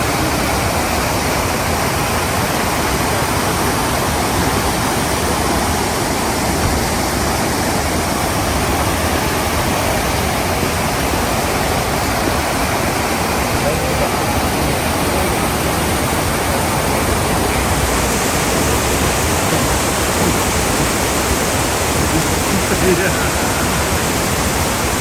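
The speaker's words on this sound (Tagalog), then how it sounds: "tabi lang ng daan yung pinaka waterfall" Roadside Golden Waterfall in Taiwan roars steadily, a dense, close wash of falling water that stays loud and unbroken throughout.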